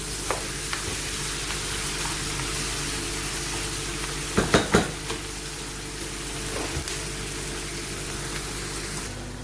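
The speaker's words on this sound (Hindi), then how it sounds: "आलू ब्राउन हो रहे हैं और भिंडी और प्याज हो रहे हैं" Okra, potatoes and onions fry in oil in a pan, a steady close sizzle and crackle with a few brief stirring clatters near the middle, no voices.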